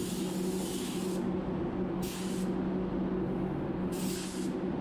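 A spray gun applies clear coat over a faded-out paint repair on a new car wing and front bumper, giving three short hissing bursts of spray over a steady low compressor hum.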